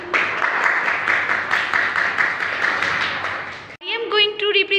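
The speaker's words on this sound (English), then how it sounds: "Clap for me." Children in a classroom clap together in a dense, lively burst lasting several seconds, then it stops abruptly and a voice follows.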